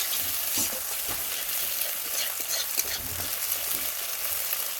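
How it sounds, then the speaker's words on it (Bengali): A whole egg fries in a pan of hot oil with a continuous close sizzle and spatter, punctuated by a few soft scraping stirs. "দেখো ওই তেলেতে একটা ডিম ভেজে নিচ্ছি, পুরো করে ভাজবো।"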